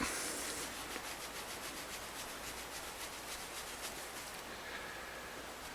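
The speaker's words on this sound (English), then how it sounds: "I'll just take some 4/0 steel wool and just rub it" Steel wool, grade 4/0, rubbed briskly over rusty chrome hardware on a 1992 Fender Prodigy Stratocaster guitar, a steady run of close scratchy strokes in a quick even rhythm with no talking.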